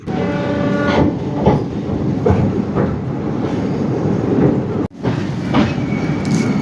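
A train rolls across Pamban bridge on the way to Rameswaram, a steady loud rumble of wheels on track with rhythmic clatter throughout, briefly dipping near the end before resuming.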